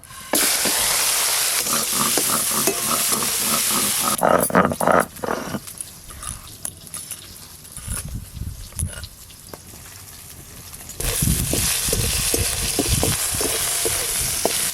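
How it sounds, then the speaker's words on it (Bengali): Shrimp frying in hot mustard oil in a kadai, a bright, steady sizzle that fades at times under intermittent clattering and stirring, with a voice speaking at points, then sizzling strongly again near the end. "মাছ ভাজার জন্য তেল কিন্তু বেশ ভালো করে গরম হয়ে গেছে। চিংড়ি মাছগুলো দিয়ে দেব।"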